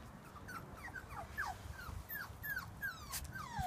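Young Labradoodle puppies in a litter whimper and whine in a quick series of high, falling yelps, about a dozen thin cries in a row over soft background noise, fairly faint and close.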